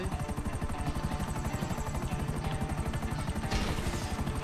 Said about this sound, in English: No, I'll blow helicopters up.